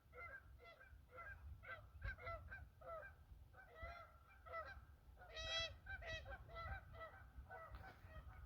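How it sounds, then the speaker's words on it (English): A flock of geese honks repeatedly while landing on a pond at a campsite, a busy overlapping series of nasal calls at moderate distance, fairly faint over a low rumbling background. "We have geese landing on the pond."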